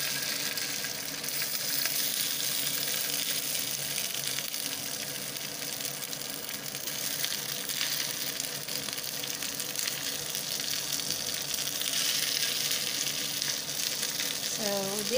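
Canned tuna sisig frying in an oiled pan, a loud, continuous close-up sizzle and crackle with a few clinks of utensils.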